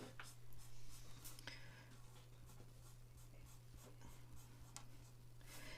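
Pencil colouring a small flower on a drawn bench for a handmade card, a faint, steady scratchy rubbing with a few brighter strokes over a constant low electrical hum, no voices.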